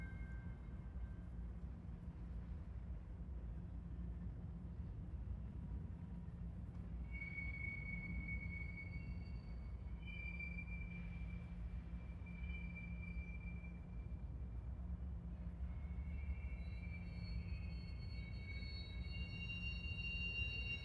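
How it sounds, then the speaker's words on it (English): A CSX train rolls into an intermodal facility, a steady low rumble heard from a distance, with intermittent high wheel squeals partway through and no talking. "Here we see a CSX train pulling into the intermodal facility."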